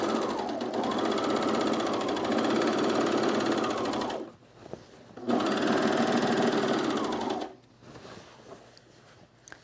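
A sewing machine runs a double-needle topstitch on men's cargo shorts, sewing loud and steady in two long bursts separated by a short pause, then stopping.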